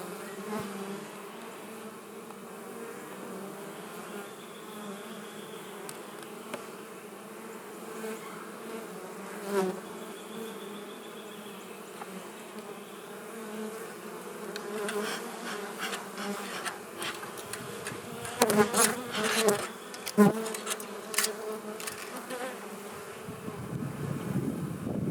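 A steady hum of many honey bees buzzing close by at an open hive's bottom box, with louder passes near the microphone and some rustling handling noise toward the end.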